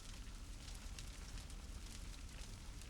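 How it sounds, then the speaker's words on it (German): A campfire in a cave in The Silent Age video game crackles with a steady, soft hiss and scattered faint pops, continuous and low in level throughout. "So, ein Lagerfeuer."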